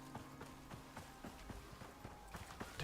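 Horse named Tyrannus galloping in the survival video game ICARUS, a steady run of soft hoofbeats thudding in quick rhythm at moderate volume with no talking.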